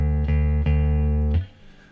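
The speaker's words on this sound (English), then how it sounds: "with the thumb we move to the 6th string and we play that string open" A single low open D on a guitar's sixth string, tuned down, rings out steady and close with a strong sustained tone, struck again twice before being damped near the end.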